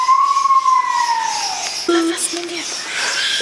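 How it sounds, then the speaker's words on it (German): A police siren wailing and sweeping downward in pitch, fairly distant, over outdoor background noise at a zoo, followed by faint tonal warbles. "Leute, hier ist eine Sirene. Hört ihr die Polizeisirene?"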